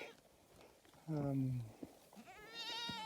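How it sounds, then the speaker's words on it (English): A herd of billy goats bleats with a couple of wavering calls, one strong and near, another higher and rising at the end, over faint background noise and murmuring voices. "Pretty nice herd of billy goats."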